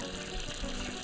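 A garden tap in Untitled Goose Game gushes water in a steady, continuous stream that is close and fairly loud, with no talking.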